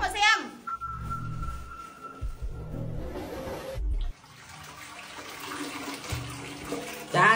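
A household toilet is flushed, giving a rushing, gurgling surge of water that carries on steadily to the end, while cartoon voices talk over it.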